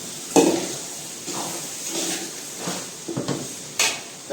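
A spoon stirs and scrapes through a spinach pav bhaji mixture in a cooking pot, giving a few separate soft scraping strokes spread across the moment with quiet pauses between them.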